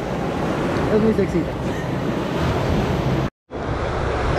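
Sea waves wash onto a beach in a steady broadband rush, heavy with wind buffeting on the microphone, while a person speaks briefly over the surf, which cuts out for a moment near the end.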